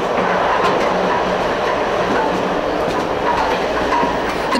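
A passenger train bound for Xi'an, China rolls steadily along the rails at close range, a constant loud rumble with rhythmic clacking and faint squeals from the wheels.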